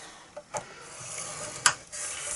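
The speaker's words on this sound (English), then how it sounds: "we're going to score this initially at 1/2 inch on all sides." A scoring tool is drawn along paper for a handmade Christmas gift box, giving soft scraping rubs with a few sharper ticks, close and quiet, with no talking.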